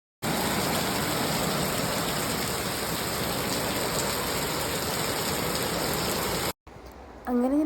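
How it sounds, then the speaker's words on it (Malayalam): Rain pouring outdoors among rambutan trees: a dense, steady hiss of falling water, fairly loud and unbroken, which cuts off abruptly near the end and gives way to a brief different sound. "വരുന്നു ഒരു മഴ"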